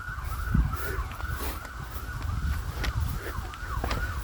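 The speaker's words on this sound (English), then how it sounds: "As you can hear the sirens and stuff going on." Emergency vehicle sirens wailing in busy town traffic during Canada Day celebrations, a rising and falling tone held steady throughout under low traffic rumble, moderately loud and somewhat distant.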